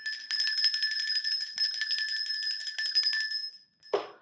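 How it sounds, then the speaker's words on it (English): A hand bell rings steadily with a bright, shimmering metallic tone for several seconds, then stops, followed by a short soft thump. "Let me ring my bell."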